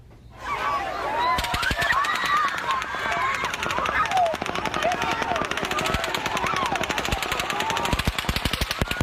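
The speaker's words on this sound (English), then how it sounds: "You hear that gunfire." Rapid, sustained bursts of automatic gunfire during the 2017 Las Vegas mass shooting, dense and continuous, with a voice or two faintly audible beneath the shots.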